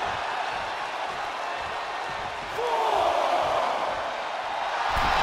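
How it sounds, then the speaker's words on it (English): A wrestling crowd at a live show cheering loudly, a dense continuous roar that swells midway and keeps going, with no clear talk over it. "The sound of this crowd is deafening, and he's asking for more."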